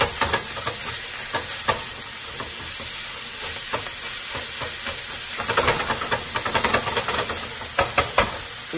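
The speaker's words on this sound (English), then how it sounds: "now I'm gonna go ahead and add in about 1 pound of ground beef and just break that up." Ground beef sizzles and hisses steadily in a pan with sausage and onions, while a utensil repeatedly breaks it up with close, irregular scraping clacks.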